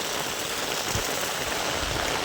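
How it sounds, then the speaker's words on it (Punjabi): Heavy rain in Sangrur district, Punjab, pours down as a loud, dense, unbroken roar of drops hitting surfaces. "ਸਾਰਾ ਦਿਨ ਹੀ ਮੀਂਹ ਦੇਖੋ"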